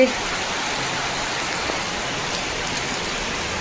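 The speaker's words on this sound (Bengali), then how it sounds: "মারাত্মক বৃষ্টি হচ্ছে আজকে প্রচুর বৃষ্টি সকাল থেকেই প্রচুর বৃষ্টি" Heavy rain pours down steadily in a dense, even hiss on surfaces around a home, loud and unbroken throughout, with a faint engine-like hum beneath.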